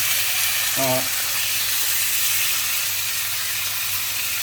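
A ribeye steak sizzles in a hot pan, a steady, even hiss throughout, with a short voice cutting in near the start.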